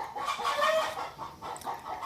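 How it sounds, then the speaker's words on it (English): Chickens cluck in a steady, chattering stream in the Philippines, several birds close by with no other voices. "Sorry about the chickens."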